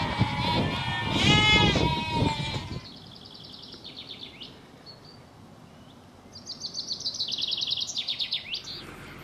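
Sheep or lambs bleat loudly and close by in a Pennine field near the Leeds to Liverpool Canal, a short burst of layered calls followed by quieter bird chirps and tweets over a soft outdoor background.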